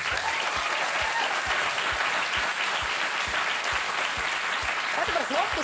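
Studio audience at a televised Icelandic quiz show applauds the two competing town teams, a dense, steady wash of clapping that fills the room for several seconds, with a voice briefly emerging near the end.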